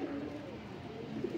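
A large Punjabi pigeon coos softly in a short, low, throaty call, close by against a steady background hum.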